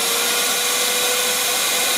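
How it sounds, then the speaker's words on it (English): A koi pond vacuum discharges pumped water through its rear outlet, producing a loud, steady motor whine with a constant high hiss of rushing water, close up and unbroken, with no talking. "There you can see the water being dispatched on the back of the vacuum."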